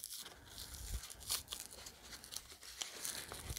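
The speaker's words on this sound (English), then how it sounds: "mine started to tear a little bit at the edge" Paper is torn and crumpled close up during a layered collage texture technique, giving soft crinkling rustles punctuated by a few sharper rips, quiet and alone without talk.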